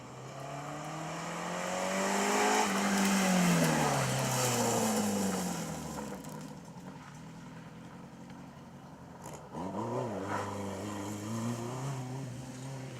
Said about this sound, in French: la première voiture que nous allons voir apparaître, une magnifique Dauphine Gordini aux couleurs Renault